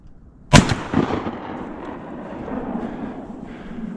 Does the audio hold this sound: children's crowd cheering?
no